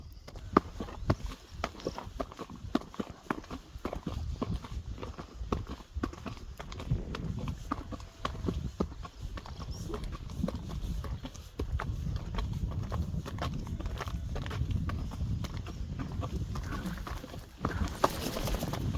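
A horse walks along a rural forest park ride, its hooves clip-clopping in a steady, fairly close rhythm alongside other outdoor movement and a low rumble, with no one speaking.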